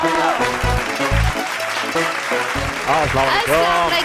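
A studio audience claps in short bursts to welcome guests onto a comedy show stage, with a host's voice and lively music running over the applause.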